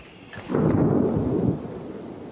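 A heavy, low boom from an artillery gun firing rolls in and rumbles for about a second before fading into a steady background roar.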